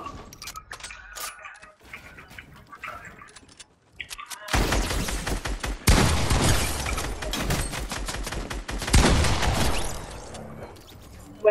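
Rapid bursts of shotgun and rifle gunfire from a video game, loud and dense from about four seconds on, with sharp repeated cracks and clattering mechanisms after a quieter stretch.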